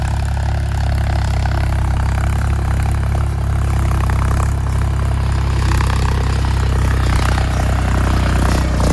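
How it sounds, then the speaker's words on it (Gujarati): A diesel tractor engine idles steadily in a farm field, a continuous loud low rumble with faint clatter and no voices. "તો આપણે કુલદીપ આવી જાય ટ્રેક્ટર લઈને"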